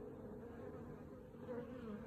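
Honey bees hum steadily at the entrance of an apiary hive, a continuous close buzz of many insects with slight swells and no voices.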